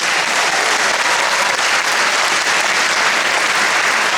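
Loud, dense audience applause at a festival screening introduction, continuous clapping from a large crowd in a theater, unbroken and without talk.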